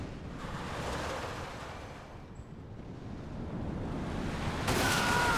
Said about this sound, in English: Ooh. Splashing.